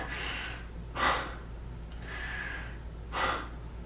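A voice imitates heavy, gasping breaths after a weightlifting set, four loud breathy pants in an uneven rhythm, close and alone without speech.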